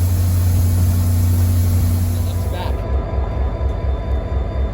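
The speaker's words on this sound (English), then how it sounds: "this is a train that terminates here at Ridgewood with a Jeep" A loud, low diesel drone from an NJ Transit train with a Geep locomotive at Ridgewood station, heard close and steady throughout. A brief hiss rises midway, then the engine rumble continues.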